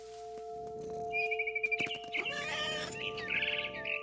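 A mother bird in the game What Remains of Edith Finch gives quick high chirps and fluttery tweets over a steady tonal hum, loud and close, with no one speaking.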